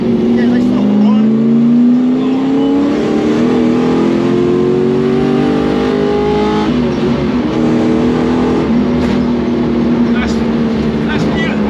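A Lexus LS 400 V8 engine fitted in a Mk2 Ford Sierra three-door is held at high revs with a rich, throaty drone, pitch dipping slightly and then settling into a steady loud roar.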